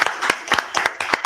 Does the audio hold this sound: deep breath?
no